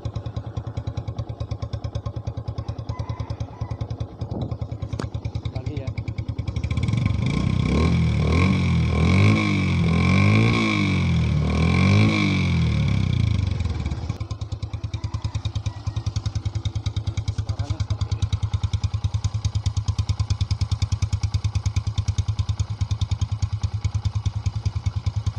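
A Yamaha Byson motorcycle with a shortened exhaust idles with a deep steady burble, then revs hard for several seconds in rising and falling surges before settling back to a rumbling idle, close and loud with no talking.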